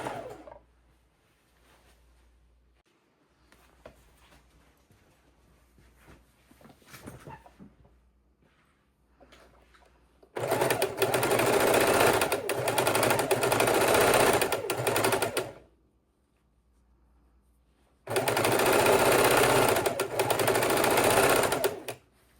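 A sewing machine stitches quilt pieces for an underwater-themed quilt in two loud, steady bursts, each lasting several seconds, separated by quieter pauses with faint handling noise.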